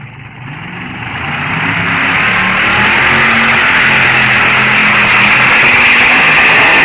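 A high-horsepower drag race car engine revs hard at a prairie drag strip, its loud, sustained roar building over the first two seconds and then holding steady and close.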